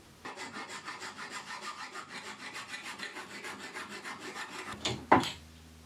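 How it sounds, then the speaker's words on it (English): A metal file rasps steadily across a bolt shaft in even back-and-forth strokes, close and fairly loud, ending in a sharper clatter. "I will be taking a file and filing until I can actually fit those nuts down over the shaft here of the bolt"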